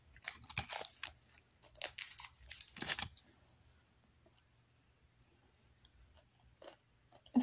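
Close, quiet crunching of a Reese's potato chip snack being chewed, a few sharp bursts of crisp bites early on, then softer intermittent chews trailing off.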